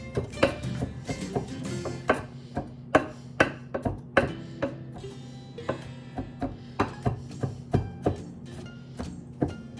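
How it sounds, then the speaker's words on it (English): Steady, rhythmic knife chops on a cutting board as garlic is minced, loud and close, with sharp repeated knocks over a low background hum. No voices are heard. "Go back over and chop it into smaller pieces."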